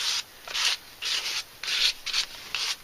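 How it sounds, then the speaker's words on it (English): An old gift card scrapes gesso paint across a journal page in five or six rough, rasping strokes, each lasting about a third to half a second with short pauses between, close and steady with no talking. "I am going to just do this and start scraping the paint across the page."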